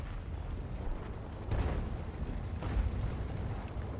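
In World of Tanks, deep rumbling engine and battle noise carries two heavy cannon booms, the first near the middle and the second a little over a second later.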